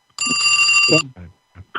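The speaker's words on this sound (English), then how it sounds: "Phone call." A telephone ringing for an incoming call, a loud sustained electronic ring lasting about a second, followed by short bursts of talk.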